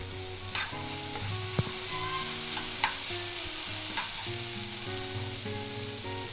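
Chopped onion sizzles steadily in a hot pan while being stirred for a homemade cone-snack filling, with occasional scrapes and clicks of the spoon, close and continuous, no talking.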